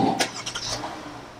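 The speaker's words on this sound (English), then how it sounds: "Start engine, hold the brake pedal in." An RV engine cranks and catches in a short burst, with a few quick mechanical pulses settling into a low idle, fairly close and with no talking.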